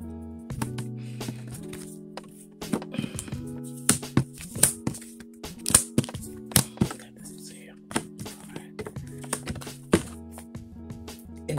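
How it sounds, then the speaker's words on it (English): Tarot cards are handled and laid out on a surface, making a series of sharp taps and soft slaps in an irregular rhythm over a steady tonal hum of background music. "I'm just trying to set the cards back out the right way."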